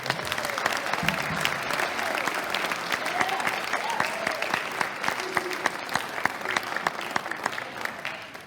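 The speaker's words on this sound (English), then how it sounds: "let's give them a big round of applause" A reunion crowd gives sustained applause for cheerleaders and a majorette joining them on stage, dense steady clapping throughout with a few voices and cheers mixed in.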